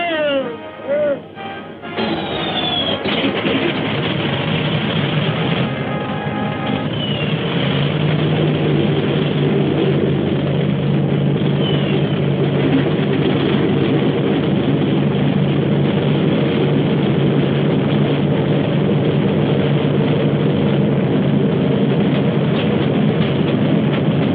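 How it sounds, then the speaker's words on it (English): Wartime 1943 bomber aircraft engines starting up and settling into a steady, loud propeller drone that fills the whole stretch, with a rough sputtering start at the beginning and no speech over it. "Start engines."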